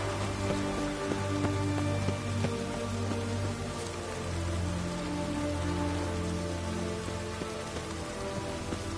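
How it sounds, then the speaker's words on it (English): Steady rain falls and patters on surfaces, a continuous dense hiss with scattered drips, under a low droning hum. "It's raining."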